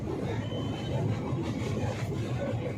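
A train crosses a bridge over a river, shaking hard as it goes, with a continuous low rumble of wheels and carriages heard from on board, steady and moderately loud.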